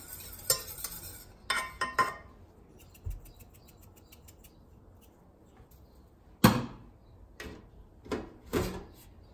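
A spoon scrapes and knocks against a pan while ricotta and spinach filling is stirred off the heat, in intermittent close clatters and scrapes separated by quiet stretches.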